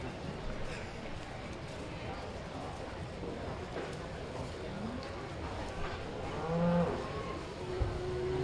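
Cattle at the Northern Wisconsin State Fair beef show, with a faint moo from a distant animal rising over a busy fairground murmur of crowd noise and people talking.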